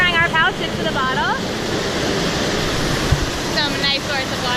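Mae Sa waterfall pouring in a steady, broadband rush, close and continuous, with brief bird-like chirps or voices over the roar.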